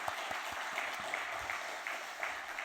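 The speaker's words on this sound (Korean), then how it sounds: "우리 크게 한번 다시 박수해 주시기 바랍니다" A church congregation at a Sunday afternoon worship service breaks into hearty applause for the praise team and choir, a dense, steady clatter of many hands with a few sharper claps standing out.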